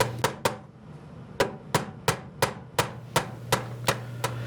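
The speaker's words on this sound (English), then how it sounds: "Once I get the hasp moving freely in the lock, I can nail it down." Small nails hammered into a wooden chest's hasp, a dozen sharp hammer blows in short irregular bursts, close and crisp over a faint steady hum.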